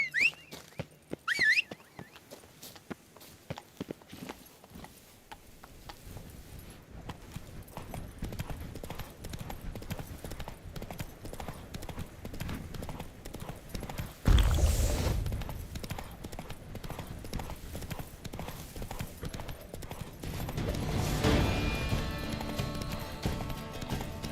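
Roach the horse trotting in Witcher 3 Blood and Wine, a steady rhythmic clip-clop of hooves continuing throughout, with a brief thump and a short neigh amid game ambience.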